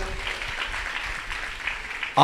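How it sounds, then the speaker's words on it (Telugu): A church congregation claps together during a sermon, a soft, broad patter of many hands from across the room, steady for a couple of seconds, with a voice rising at the very end. "కొట్టు చప్పట్లు ఒకసారి"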